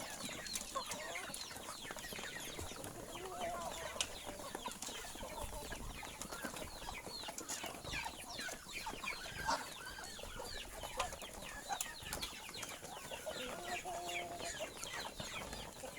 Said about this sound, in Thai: มาหาสิพามาเบิ่งลูกไก่วันนี้